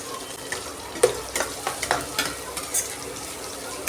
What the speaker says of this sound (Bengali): ভেজে নেবো পেঁয়াজটাকে।